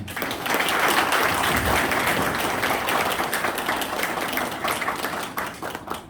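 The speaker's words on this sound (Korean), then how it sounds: "크게 박수 한번 좀 부탁드립니다" An audience at a local Democratic Party meeting with invited candidates breaks into loud, continuous applause, a thick wash of clapping that holds steady and thins slightly toward the end.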